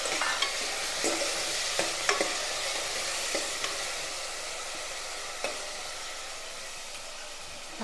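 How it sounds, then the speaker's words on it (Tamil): Onions and tomatoes sauté in a pan for a lentil curry with a soft continuous sizzle, punctuated by regular spoon taps and scrapes as the mixture is stirred. No one speaks. "வெங்காயம் பாதி அளவு வதங்கிருச்சு. இதில் இப்போது நம்ம வெட்டி வச்ச தக்காளி பழத்தை போடலாம்."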